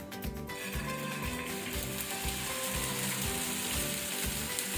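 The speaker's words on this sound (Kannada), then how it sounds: "ಈಗ ಮತ್ತೊಂದು ಸೈಡ್ಸ್ ನಾವು ಫ್ರೈ ಮಾಡ್ಕೊಳ್ಳುವ" Bread pizza frying in a pan, a steady close sizzle with rhythmic crackling that continues without a break.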